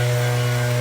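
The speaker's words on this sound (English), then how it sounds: "I'm hopefully going to get past this leaf blower because I don't know how well you can hear me at the moment" A leaf blower runs outdoors, a loud steady motor drone with a strong low hum and a constant airy roar, heard alone and close for under a second.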